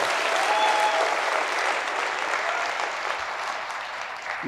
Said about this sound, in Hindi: आज आप इनके लिए तालियां बजा सकते हैं